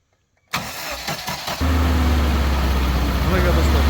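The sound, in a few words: GAZelle van with 406 engine starting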